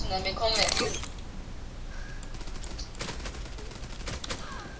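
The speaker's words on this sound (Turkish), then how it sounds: "Gideceğim şimdi Glock 18'e taracağım." Glock 18 fire in a video game: a dense burst of rapid shots near the start, then scattered fainter shots and game noise over a steady background hum.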